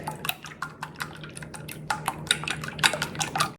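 Batter for crispy cabbage fries, with jalapenos mixed in, beaten in a bowl: a run of quick, irregular clinks and wet slaps of utensil against the bowl, fairly close and steady, with no voices.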